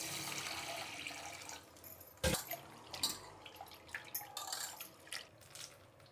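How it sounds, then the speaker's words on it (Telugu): Lentils (dal) being rinsed in water for cooking: a faint, quiet backdrop with a sharp splash or clunk followed by scattered light sloshes and drips. "ఇక్కడ నేను పప్పు నానబెట్టలేదు, అలానే కడిగి పెడుతున్నాను"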